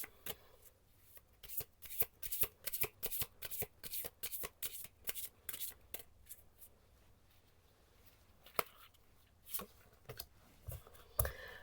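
Tarot cards are shuffled close up in quick bursts of crisp riffling and flicking, a fast repeated rhythm that slows into scattered taps and slaps near the end.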